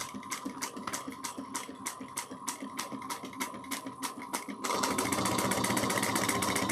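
A sewing machine stitches bag seams with a rapid, even, rhythmic clatter that speeds up into a denser, continuous whir partway through, close and moderately loud.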